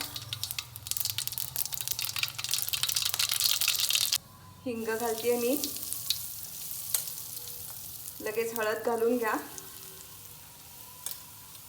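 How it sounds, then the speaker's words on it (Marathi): Mustard seeds sizzle and crackle loudly in hot oil for several seconds, then quiet as someone speaks in two short bursts over a softer background sizzle. "तेल तापल्यावरती पहिल्यांदा मोहरी घाला"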